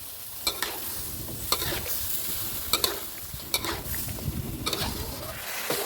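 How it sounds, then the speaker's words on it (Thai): Baby corn cut lengthwise stir-fries in a hot pan: a soft steady sizzle broken by about six sharp scrapes and clacks of a spatula against the pan, close and alone. "ใช้เวลาผัดสักพักหนึ่งครับ ให้ข้าวโพดอ่อนของเราสุกเลยนะครับผม"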